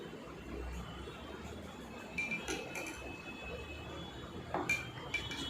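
A spoon mixes lemongrass hand wash in several containers, giving faint, sparse clinks and taps against the sides over a quiet, soft background.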